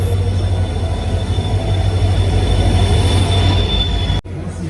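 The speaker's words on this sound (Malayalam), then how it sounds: "ആ ട്രെയിനാണ് പോണത്." A Nilambur–Kotta Express train passes close by at Angadipuram railway station in Kerala, with a loud, steady rumble of wheels on rails and a high sustained squeal throughout, cutting off abruptly near the end.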